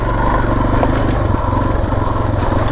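A dual-sport motorcycle rides off-road with a steady, loud, close engine drone and a rough rhythmic throb, with nothing else breaking through.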